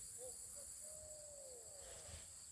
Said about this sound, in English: hear that owl?